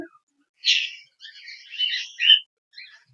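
Semi-adult cockatiels give a few close, bright chirps and short squawking calls in bursts, with silent gaps between them and no talking.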